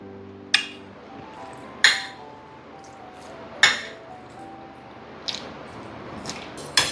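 Salad gently mixed in a bowl, with a handful of sharp, ringing clinks of a utensil against the bowl spaced a second or two apart over a quiet background.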